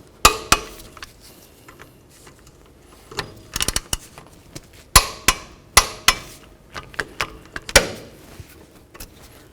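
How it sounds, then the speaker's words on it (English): A torque wrench tightens wheel lug nuts on a 2003-2009 Toyota 4Runner to 65 foot-pounds: a close, irregular series of sharp metallic clicks and clinks, some in quick pairs, with quiet gaps between. "We're going to torque these to 65 foot-pounds."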